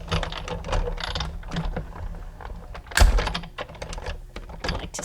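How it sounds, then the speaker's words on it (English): A manual die cutting machine runs a paper card through its rollers, a steady grinding, ratcheting crank sound with a louder clunk near the middle, close and alone. "then I'm going to cut that out using my die cutting machine"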